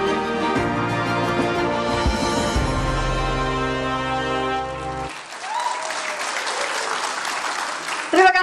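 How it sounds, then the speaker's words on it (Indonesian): Music plays, then a convention-hall audience at a 2024 Aceh governor candidates' public debate breaks into sustained, dense applause for the last few seconds. "Berikan tepuk tangan yang meriah."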